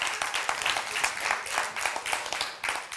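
Audience at the Catskills Comedy by JEM stand-up show claps in a steady, dense burst of applause, moderately distant and unbroken, with no voices on top.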